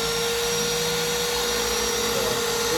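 A Graco paint sprayer motor runs loud and steady during priming, a continuous whining drone with a constant tonal hum and dense broadband hiss that holds unchanged throughout.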